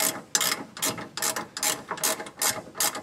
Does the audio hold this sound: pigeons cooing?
no